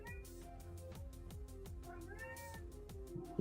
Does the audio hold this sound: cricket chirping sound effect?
no